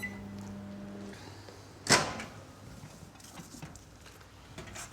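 A microwave oven cooking potatoes gives a steady low hum that cuts off after about a second, followed by a sharp close click, like the door being opened, then quiet room tone.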